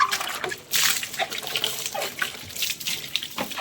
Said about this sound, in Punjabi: ਹੁਣ ਆਪਾਂ ਸਾਰਾ ਫ੍ਰਿਜ ਇਸੇ ਤਰੀਕੇ ਨਾਲ ਧੋ ਲਾਂਗੇ ਬਸ ਸਿੰਪਲ ਪਾਣੀ ਨਾਲ